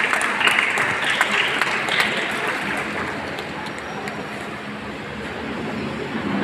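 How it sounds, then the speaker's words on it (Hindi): An audience at a Baba Saheb Ambedkar birth anniversary gathering in Buxar claps to welcome a speaker, a dense, steady wash of applause that starts loud and thins slightly toward the end. "जोरदार तालियों से स्वागत हो।"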